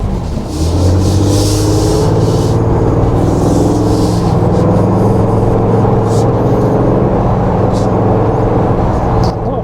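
A Ford Bronco Badlands accelerating from a stop, heard from the cabin as a loud, heavy engine drone whose tone climbs steadily, with faint road and tyre rustle underneath.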